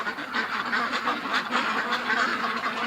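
A crowd of ducks quacks continuously and noisily at close range, overlapping calls forming a dense, agitated chorus.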